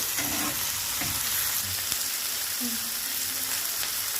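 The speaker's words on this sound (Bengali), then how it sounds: "আমি টমেটোগুলোকে ততক্ষণ ভেজে নেব যতক্ষণ টমেটোর ভিতরে কাঁচা গন্ধটা চলে যায়" Tomatoes fry in a pan with a steady, close sizzle that runs the whole time, with a few faint stirring scrapes and clinks and no talking.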